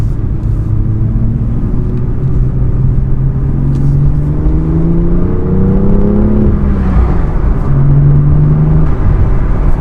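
A BMW M2 engine revs while driving, a steady loud rumble with rising and falling pitch sweeps as the revs climb and drop, continuous throughout with no talking.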